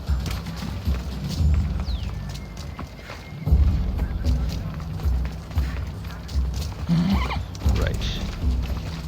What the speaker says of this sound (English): Getting off the horse